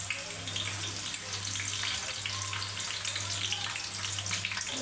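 Whole spices and chopped onion sizzling in hot oil for chicken biryani, a steady bright frying hiss with crackles, continuous and close, alongside a low constant hum.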